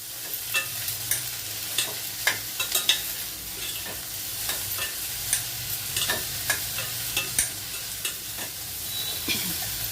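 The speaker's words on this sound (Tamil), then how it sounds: "இந்த எண்ணெயிலேயே வதக்கும் போது அந்த வெண்டைக்காய்க்கு உள்ள குழப்பு இருக்காது" Okra sautéing in hot oil in a pan for a Tirunelveli vendakkai pachadi, a steady close sizzle with frequent scraping stirs and utensil taps throughout.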